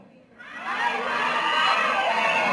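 A crowd of fans at a Barbie Forteza and David Licauco appearance bursts into loud, sustained cheering and high-pitched shouting that swells after a brief quiet start and stays strong throughout.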